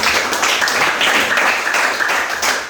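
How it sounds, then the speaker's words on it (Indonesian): Steady applause from an audience at a school presentation about the dangers of smoking, dense and continuous clapping that stays fairly loud throughout. "tepuk tangan untuk"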